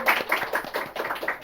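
A few people clapping for a guest on an Indonesian podcast: quick, close, distinct hand claps in a brisk uneven rhythm lasting just over a second.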